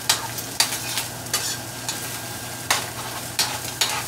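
Eggs are broken up and stirred as they fry in butter in a home skillet, giving a steady low sizzle with repeated scraping strokes of the utensil at irregular intervals, close and moderately loud with no talking.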